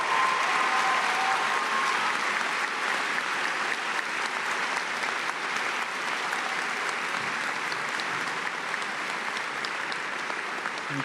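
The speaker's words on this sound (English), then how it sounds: "And a round of applause for our global Clippers." Sustained applause from the audience at a high school graduation ceremony, honoring exchange students, with many hands clapping steadily at moderate volume for the whole stretch.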